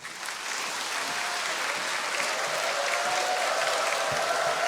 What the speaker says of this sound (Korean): 젠틀맨을 열렬한 박수로 우리 환영하겠습니다